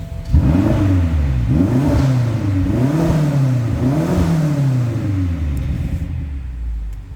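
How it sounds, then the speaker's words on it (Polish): A 2016 BMW X6 M with a 4.4 V8 and loud exhaust revs hard in several rising surges, then accelerates, a deep, loud, close rumble that fades slightly at the end. "posłuchajmy jak pracuje ta V8"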